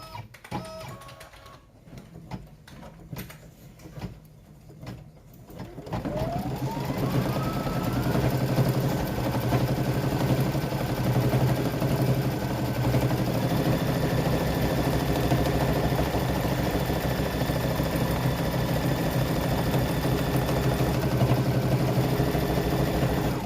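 Sewing machine stitching fabric for a mug wrap: after a few seconds of scattered handling noises it starts up and runs as a steady, close mechanical whir with a fast rhythmic stitching pulse for the rest of the clip.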